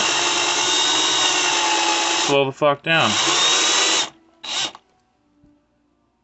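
A close, whining power drill runs at high speed drilling out a screw in a GI Joe action figure, stutters and briefly stops, then spins again in short bursts before going quiet; a voice speaks briefly.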